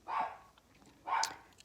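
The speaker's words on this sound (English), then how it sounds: "you know I have 3 dogs and they bark a lot." Two short barks from a household dog, about a second apart, fairly faint and heard alone with no talk over them.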